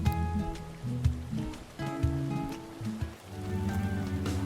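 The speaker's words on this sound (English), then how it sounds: "Heavy rain day." Heavy rain in the video game Cassette Beasts patters as a soft, continuous wash beneath tonal background music, with no voices.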